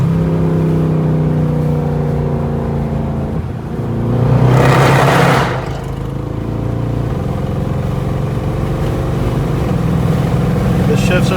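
Loud Mercedes C63 AMG V8 engine on a late-night drive, heard from inside the car, pulling hard with a sustained roar, rising revs and a gear shift midway where a burst of exhaust noise flares.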